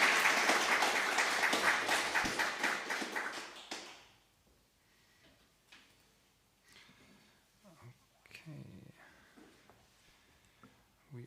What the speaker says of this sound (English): We then proceed to the applause while I switched over to Jimmy.